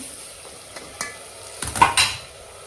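Washed rice being stirred into spinach and fenugreek vegetables in hot oil for khichdi, a few scraping strokes and clinks against the pot rising over a soft sizzle, no voices.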